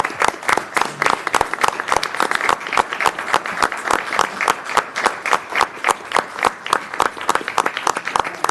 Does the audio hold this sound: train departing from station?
no